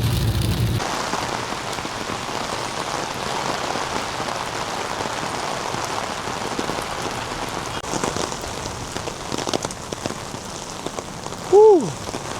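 Steady rain falls on a surface outdoors in downtown North Bethesda, Maryland, a dense continuous patter throughout with a faint distant rumble, and a brief tonal sweep near the end.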